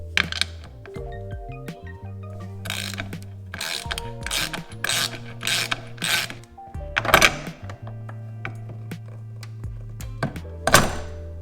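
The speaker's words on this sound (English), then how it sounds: "Now we're going to remove this bolt that's securing the" Ratchet wrench loosening the suspension bolt on a 2024 Vespa GTS 300 scooter during a lowering-kit install, heard as repeated clicking bursts and metallic thunks between low mechanical hums, close and fairly loud.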